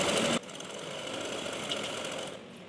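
A sewing machine runs a fast, steady double stitch along pant legs, a close mechanical whirr after a brief louder opening burst, with no talk.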